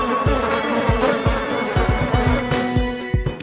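A bee in a children's animated song buzzes steadily, close and fairly loud, with a rhythmic pulsing of soft beats beneath it.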